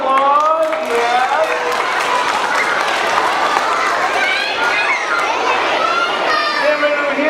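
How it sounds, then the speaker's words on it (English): Children applaud and cheer at an elementary school anti-bullying magic show, with loud, continuous clapping mixed with excited young voices and shouts filling a room. "Come on up here, big round of applause."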